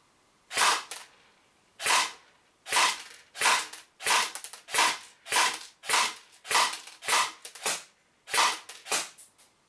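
Single shots from a Secutor Rapax DMR airsoft electric gun fired at a 10-meter range: about a dozen sharp, close snapping reports, spaced unevenly roughly every half to one second, with silence between them.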